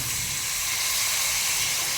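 Water pours into a pot for cooking basmati rice, a steady hissing splash that runs close and unbroken for the whole moment, with no talking over it.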